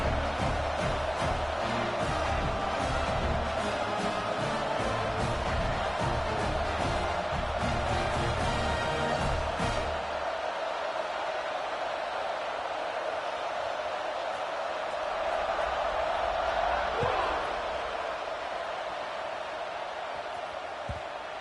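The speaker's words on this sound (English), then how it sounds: "this crowd is buzzing after that last score" A football stadium crowd buzzes after a score, a dense, steady roar of many voices that stays loud throughout and softens slightly partway through.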